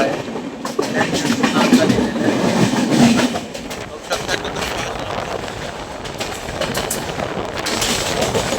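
An AC superfast express train from Haridwar to Mumbai LTT runs near Kalyan Junction, with a loud, continuous rumble of wheels and rapid rhythmic clatter heard from inside the coach.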